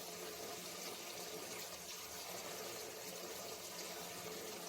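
A whole ash gourd (chalkumro) is washed in water, with a steady, faint rush of running and sloshing water throughout and no speech.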